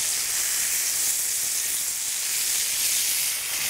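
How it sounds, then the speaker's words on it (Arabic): Beef steak searing in a very hot pan right after being flipped, giving a loud, steady, close sizzle and hiss that runs without a break. "أقلب الستيك على الناحية الثانية."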